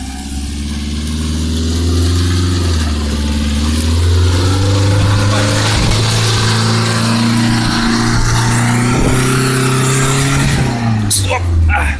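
A car with winter tyres stuck on wet clay, its mid-pitched engine revving loudly and steadily for several seconds, rising and falling as the wheels spin, with voices shouting faintly underneath.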